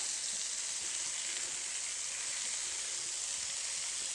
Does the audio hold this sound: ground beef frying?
yes